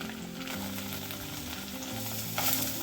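Paneer pieces shallow-fry in a little oil in a kadhai, giving a steady, close, busy sizzle throughout with a brief louder flare of spattering near the end; no one speaks.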